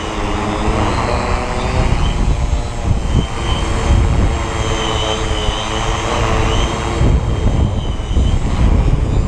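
"Black Widow" model aircraft flying in wind, a steady high motor and propeller whine with gusty buzzing and low wind rumble, no talk.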